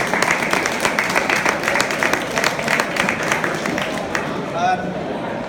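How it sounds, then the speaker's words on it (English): Audience applause for a guest at a fishing event, a steady wash of clapping from a crowd that holds for several seconds and fades near the end. "one last round of applause for him"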